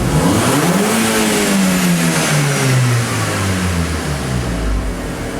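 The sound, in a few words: car engine revving from idle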